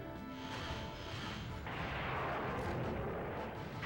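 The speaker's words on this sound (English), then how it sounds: "I don't think it's going to happen because these turrets are still shooting at me." Turret gunfire in the N64 video game BattleTanx, a dense, continuous barrage of booming artillery-like shots that thickens midway, loud and steady throughout with no talking.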